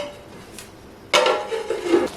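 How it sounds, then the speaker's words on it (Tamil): A lid set onto a cooking pot of tamarind gravy: one sudden close metallic clatter and rattle, which follows a quiet stretch and settles within about a second. "இப்போ மூடி வச்சிடலாம்"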